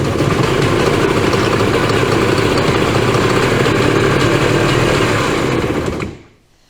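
A Cushman Trackster E4 engine runs at a loud, steady idle close up, a rough continuous drone that cuts off abruptly near the end.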